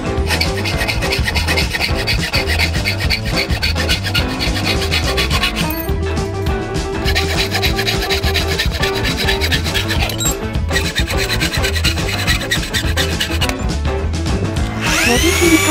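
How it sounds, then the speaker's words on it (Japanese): Continuous rapid rasping of a hand saw cutting through aluminum stock, a harsh, dense stroking sound that keeps going without pause, close and loud. "アルミ材をノコギリで切断します。"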